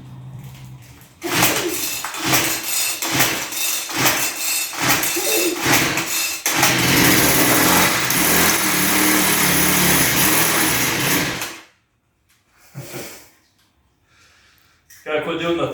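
A gas string trimmer engine runs loudly after priming, sputtering unevenly at first then holding a steady roar for several seconds before cutting out, followed by brief quieter bursts.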